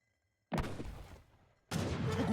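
Mortar fire in the Age of Empires III real-time strategy game: two loud, broad booming blasts, the first at about half a second and decaying over roughly a second, the second following soon after and sustained to the end.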